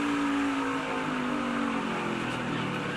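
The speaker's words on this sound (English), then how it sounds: "you hear Cole Custer downshift into 3rd and then drive away" A NASCAR race car, Cole Custer's, downshifts into third and accelerates away at a 2017 race, with a loud, steady engine roar and a falling-then-rising pitch that holds for the full few seconds.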